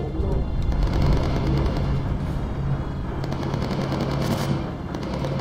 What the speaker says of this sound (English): Everybody on board is firing a weapon.